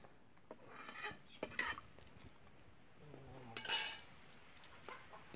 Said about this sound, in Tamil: புளிக்கரைசல் சேர்த்ததுக்கப்புறமா கரண்டியில் ஒரு டைம் வந்து நல்லா கலந்து விடுங்க